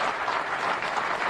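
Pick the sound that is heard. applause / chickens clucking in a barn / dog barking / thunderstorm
applause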